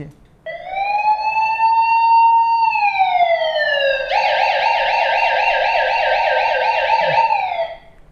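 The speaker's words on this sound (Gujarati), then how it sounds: "પોલીસની ગાડી આપણે મંગાવી લઈએ" A loud police siren wails close by, rising and holding, then shifting into a rapid warbling pattern before cutting off.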